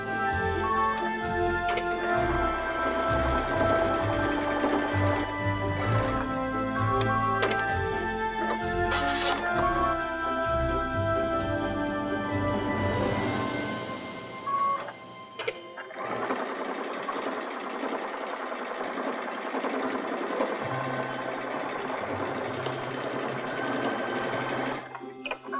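A sewing machine quilting a fabric patchwork stocking runs in a fast, steady mechanical whir with a ticking needle rhythm, close and continuous, stopping briefly before starting up again.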